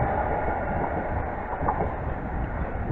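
A London Underground Metropolitan line train rumbles past Pinner station, a steady, dense, close roar of wheels and motors holding evenly for the whole stretch, with no voices.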